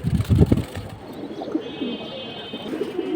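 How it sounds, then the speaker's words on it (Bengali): Pigeons coo at a high-flying pigeon market, a few low rolling coos nearby mixed with a louder handling burst at the start and faint background bustle. "বিশাল সাইজের কবুতর ভাই"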